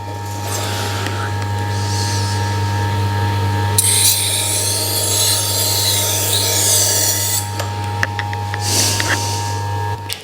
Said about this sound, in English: I'm sharpening a knife that's pretty good to start with